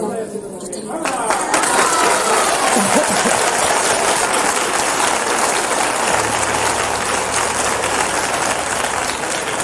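Audience applause at a televised copla singing gala, a dense, loud roar of clapping that continues steadily throughout, with crowd chatter mixed in.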